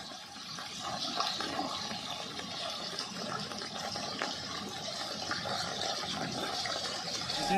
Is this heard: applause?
no